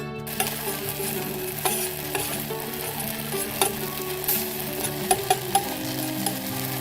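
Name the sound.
face mask mixture heating in a pan on a stove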